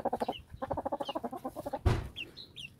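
Hens clucking up close in a rhythmic run of short, repeated clucks, followed by a louder thump and a few scattered higher chirps, with no talk over them.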